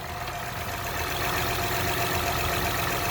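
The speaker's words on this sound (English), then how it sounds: "The engine works flawlessly, like not shaking, nothing. It's very smooth." A 2011 Acura MDX engine idling smoothly after a PCV valve replacement, a steady even hum and faint mechanical whir, close by and unbroken, with no talking.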